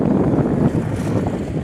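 Strong wind buffeting a bridge early in the morning, a steady rushing roar with gusty microphone noise, close and loud, no speech.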